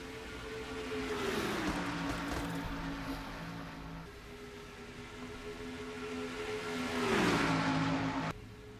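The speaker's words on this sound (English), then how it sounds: "Several cars on the low side of the track here." Engine drones from race cars lapping in a stock-car racing video game, with two passes swelling and sliding down in pitch as they go by, under a steady wash of engine noise.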